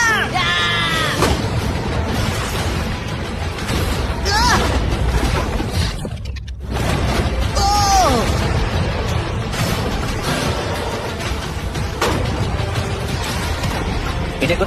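Shots fired at a shipping container full of money: several sharp, loud bangs spread across the stretch, mixed with excited shouting, whoops and overlapping voices.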